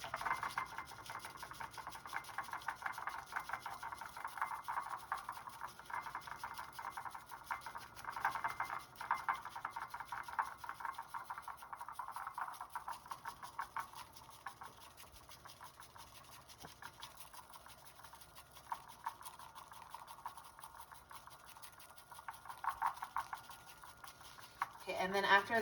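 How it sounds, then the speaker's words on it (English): A bamboo whisk sweeps quickly back and forth through matcha tea in a bowl, a steady close, soft scratchy swishing that runs unbroken for the whole stretch. "you will whisk it in a back and forth motion with your wrist, not your arm, okay? I whisk it for about 30 seconds."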